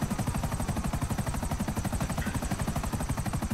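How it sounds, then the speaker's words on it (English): Helicopter in Grand Theft Auto V, a fast steady rotor thudding with a whining turbine hum, continuous and fairly close. "Let's see if I can get away from this helicopter real quick"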